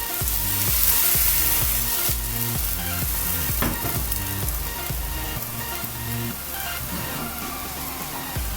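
Onion pancake batter spread in a hot oiled pan sizzles steadily and loudly up close, with soft scraping strokes of a ladle running through the continuous crackle.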